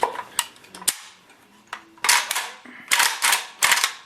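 A Romanian WASR-10 AK rifle being safety checked, with sharp metallic clacks and sliding clatter of the action being worked, several loud close snaps in irregular bursts and no speech.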